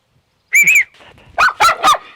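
Dogs near a house in a damaged, abandoned village bark close by, one short double bark followed by three sharper barks in a quick series.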